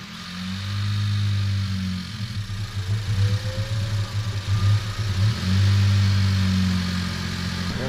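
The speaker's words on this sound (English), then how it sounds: "Fired right up, and then didn't really want to run." Honda Civic engine with a custom race intake and larger MAF housing cranks and fires up, then runs rough and uneven with a stumbling, surging low hum close by before steadying, no voices over it.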